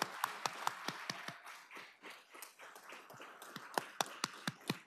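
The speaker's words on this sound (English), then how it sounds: "Let us give the graduates one more round of applause." A small audience at a citizen police academy graduation ceremony gives sparse, scattered hand claps for the graduates, fairly quiet with irregular individual claps rather than a dense ovation.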